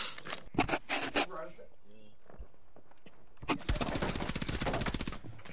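Rapid bursts of gunfire crackle in a first-person video game, several quick volleys early on and then a long, steady automatic stream near the end, with snatches of movement noise between them.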